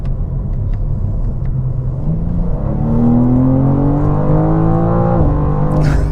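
A turbocharged 2026 BMW M2 CS engine revs up steadily past 7,000 RPM, its pitch climbing to a high whine before dropping as it shifts, then rising again.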